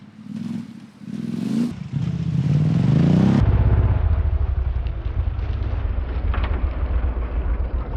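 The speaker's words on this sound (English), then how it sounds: "you should be aware that it's a slightly different noise in the front tire like this" Motorcycle on the move fitted with a Dunlop Trailmax Raid front tire, a loud continuous engine and tire drone that rises through revs then settles into a steady roar with wind rush.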